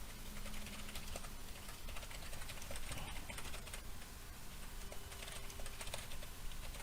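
A title is typed on a computer keyboard, soft rapid key clicks in irregular bursts under a constant hiss of background noise, faint and fairly distant.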